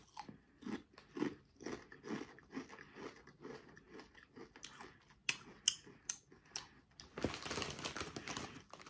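Someone chews a crunchy snack that is said to taste like a Whopper: quiet, close-up bites and crunches in an irregular rhythm, with a burst of louder crunching at the end.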